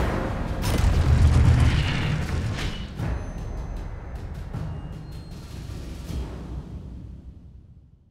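Incendio fire spell in Hogwarts Legacy, heard as a deep whooshing boom that swells, crackles with sharp bursts, then trails off into a fading rumble.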